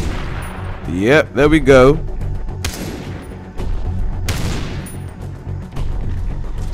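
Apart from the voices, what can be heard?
shooting mines in the video game Far Cry 3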